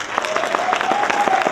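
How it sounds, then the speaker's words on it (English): An audience breaks into a round of applause, dense rapid clapping from many hands with a few louder nearby claps, fairly close and sustained for the whole moment. "Can we give him a round of applause?"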